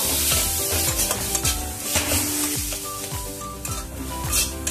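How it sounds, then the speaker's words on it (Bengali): Chicken mince frying with spices in a pan for a cabbage dish, a steady loud sizzle broken by repeated scraping strokes of a spatula as it is stirred, with no voices. "ভালো করে মশলাটা মিশে যাচ্ছে। এবার এরকম করে আমি 10 মিনিট মতো ভালো করে কষাবো"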